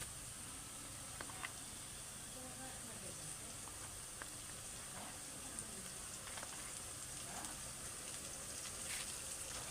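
Garlic paste frying with browned fried onions for duck curry cooked on a clay stove, a steady low sizzle with faint scattered pops and soft stirring, fairly quiet throughout.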